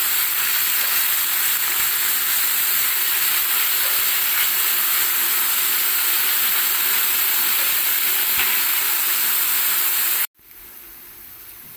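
Fenugreek leaves and cumin seeds sizzle in hot oil with a loud, continuous steamy hiss close up, cutting off abruptly near the end.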